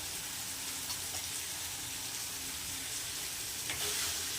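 Pasta ingredients fry with garam masala in a hot pan, producing a steady, close sizzle with faint crackles and a brief stir midway, with no voices.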